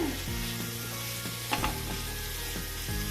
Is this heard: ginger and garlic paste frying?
yes